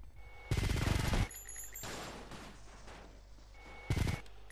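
Bursts of gunfire aimed at a helicopter in GTA Vice City, two loud volleys: a long burst near the start and a short one near the end, with a steady mechanical hum and softer game sounds between them.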